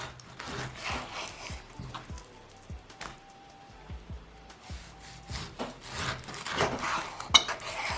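A knife cuts cooked ham into thick slices about 2 cm wide on a board, making soft rhythmic scraping strokes with light knocks. The sound is quiet and close, with no talk.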